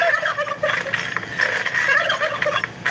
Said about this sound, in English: You can hear the turkeys.